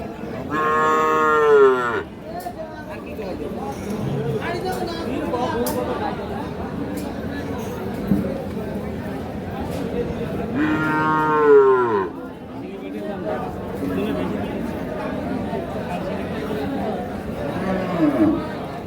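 Cows moo loudly several times, long drawn-out calls rising and falling, over steady crowd chatter and voices at a busy livestock market in Narayanganj.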